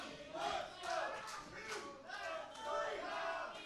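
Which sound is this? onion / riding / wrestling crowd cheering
wrestling crowd cheering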